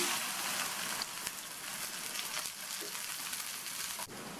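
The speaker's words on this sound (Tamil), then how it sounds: "அதே எண்ணெயிலேயே கட் பண்ணி வச்ச வெண்டைக்காவை கொஞ்சம் கொஞ்சமாக சேர்த்து எண்ணெயிலேயே ஃப்ரை பண்ணிக்கணும்" Cut okra fries in oil with a faint, steady hiss and light crackle, soft and continuous with a few small pops.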